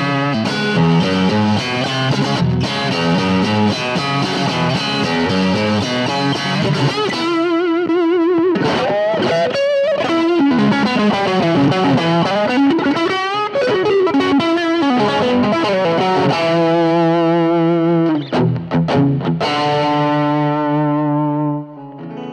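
Electric guitar through a boutique amp set to a bright, clean hot-country tone, playing a steady run of twangy notes and chords that rings out continuously and loud, with no talking.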